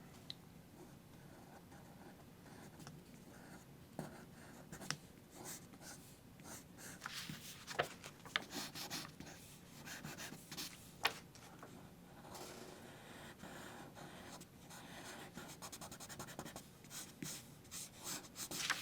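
A pencil sketching on a clean sheet of paper for a character's facial expression, with soft, close scratchy strokes in quick irregular flurries and short pauses, quiet and with no talk.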